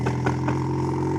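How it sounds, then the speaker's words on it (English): Loud motorbike engine running steadily up close, a continuous low throbbing idle with a few brief rises in revs, heard alone without talk. "A loud motorbike."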